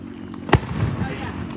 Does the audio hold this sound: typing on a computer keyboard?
no